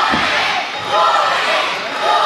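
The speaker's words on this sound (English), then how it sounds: "I will always be amazed hearing this crowd cheer for Jordan Kage after so long." Wrestling event crowd in a large arena cheering loudly and steadily, a dense roar of many voices with swells, some individual shouts and chants rising above the wash.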